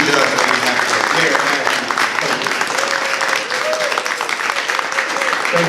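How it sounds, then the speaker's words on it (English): Sustained applause from an audience at a 2nd District town hall meeting in East Chicago, dense and steady clapping filling the room for several seconds with a faint tonal hum underneath. "Let's give him one more round of applause."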